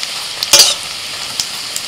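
Fish roe fritters fry slowly over low heat with a soft, steady sizzle, broken by a few short clinks as the pan or utensil is knocked. No talking.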